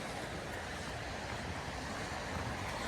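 Steady, roaring wind from a heavy winter snowstorm in Toronto, blowing hard into the microphone as a constant broadband rush with no pauses.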